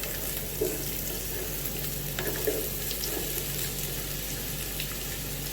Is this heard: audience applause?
no